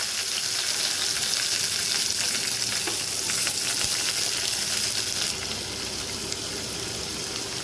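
Chopped onion and curry leaves fry in hot oil with mustard seeds for carrot beans poriyal, giving a loud, continuous sizzle with occasional stirring and a slight drop in intensity partway through.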